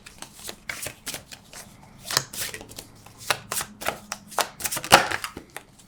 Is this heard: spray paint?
no